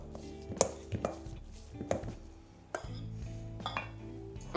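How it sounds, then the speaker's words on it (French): A spoon works warm panade around a mixing bowl, giving irregular clinks and knocks against the bowl with soft scraping between, close and moderately loud, with no talking. "On va mélanger notre panade jusqu'à ce qu'elle refroidisse un petit peu"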